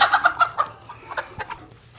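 A hen clucks close by in a quick run of short, sharp calls that fade into a few softer clucks over two seconds.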